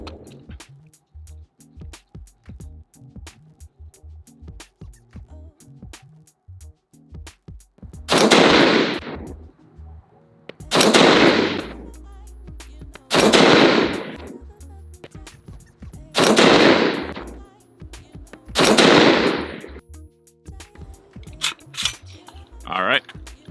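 Daniel Defense DDM5V2 .308 AR-10 rifle firing Federal 168 grain Tactical Tip Match King ammunition, five loud evenly spaced shots about two and a half seconds apart, each ringing briefly, preceded by clicks and handling noises.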